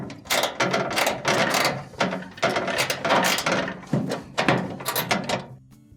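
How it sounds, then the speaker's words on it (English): A ratchet tightening a screw at the back of a GE dryer, a series of loud, close, rapid clicking bursts in uneven strokes with short pauses between them. "I shouldn't have to do a whole lot with the ratchet, but I'll reach back here"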